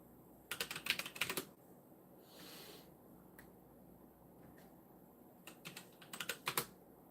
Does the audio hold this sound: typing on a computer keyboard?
yes